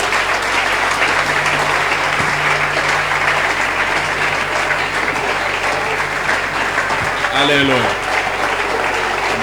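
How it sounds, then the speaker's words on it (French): A congregation at a public church consecration applauds in a dense, loud, continuous roar of clapping, with a voice calling out briefly near the end. "Applaudissez."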